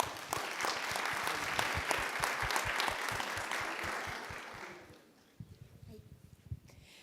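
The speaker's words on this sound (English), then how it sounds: "If you'll join me in a round of applause for Miss Steelman" An audience applauds an employee for 30 years of service at a service awards presentation: dense, steady clapping for about five seconds that fades out, followed by a few scattered claps and quiet voices.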